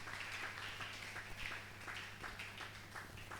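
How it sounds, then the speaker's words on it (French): Applause and cheering from a congregation at a Thursday evening church worship service, a steady wash of clapping and voices that lasts throughout, moderately distant, with a low electrical hum underneath. "Les acclamations."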